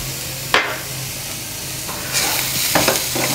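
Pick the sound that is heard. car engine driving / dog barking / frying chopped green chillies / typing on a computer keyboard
frying chopped green chillies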